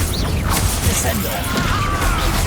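A Descendo spell slams an enemy down in Hogwarts Legacy, a loud crashing impact with smashing, thwacking debris sounds layered over steady battle noise, with a voice talking alongside.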